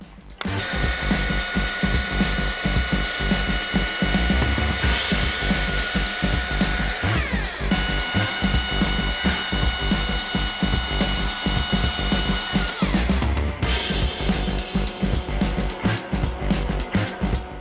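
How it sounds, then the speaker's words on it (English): A Husqvarna T540i XP battery top-handle chainsaw cuts through wood with a loud, high electric whine and a rapid chattering grind of the chain biting timber, running almost continuously with a brief dip near the end. "the T540i XP, Husqvarna's newest battery top handle saw."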